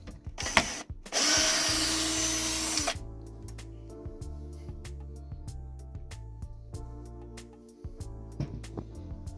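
A power screwdriver or drill whirs in one loud burst of about two seconds while removing screws from a JBL Partybox Encore speaker during a teardown, followed by a string of small clicks and taps from handling.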